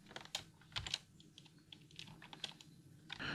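Someone types a short name on a computer keyboard, a quick burst of close, soft key clicks in an uneven rhythm with brief pauses, alone in a quiet room.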